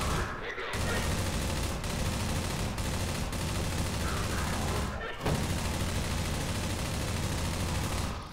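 Sustained automatic gunfire in Half-Life 2 MMod, a loud, steady stream of rapid shots lasting several seconds, broken by a few brief pauses.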